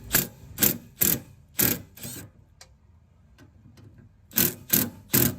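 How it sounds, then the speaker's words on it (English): Bolts on the fuel tank sending unit of a 2004 Mercury Grand Marquis being loosened with a ratcheting wrench: loud, close bursts of rapid clicking, a cluster of five, a quiet pause with faint ticks, then three more bursts. "next I'm just gonna loosen up the 6-8mm bolts"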